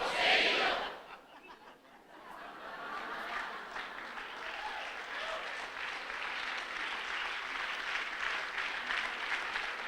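A church congregation applauds during a sermon, a loud burst at the start dipping briefly before a broad, steady wave of clapping builds and continues, with scattered chuckles and crowd voices mixed in.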